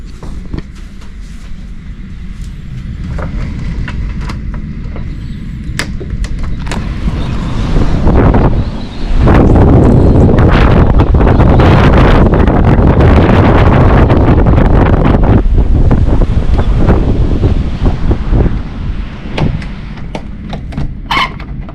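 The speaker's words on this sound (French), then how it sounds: "C'est la tempête. La tempête." A storm wind blasts on the Norwegian coast near the North Cape, roaring and buffeting the microphone loudly in continuous gusts that swell and surge, with occasional sharp crackles and no talking.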